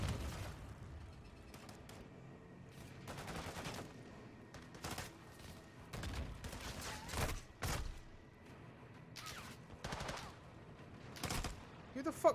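Enemy gunfire in Call of Duty: Modern Warfare 2, with bursts of game shots cracking out in uneven clusters against a steady combat backdrop, some louder and closer than others, and a player voice briefly heard amid the shooting.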